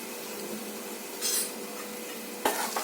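Turmeric, red chilli powder and garam masala sautéing in oil for a chickpea curry, a soft steady sizzle broken by a brief scrape and a sharp clack of a spoon against the pan.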